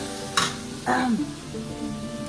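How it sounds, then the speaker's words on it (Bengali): Potato, onion and cabbage frying together in a pan for homemade chowmein, a soft steady sizzle broken by two sharp stirring scrapes and clinks near the start. "বসিয়ে দিয়েছি ভাজাতে"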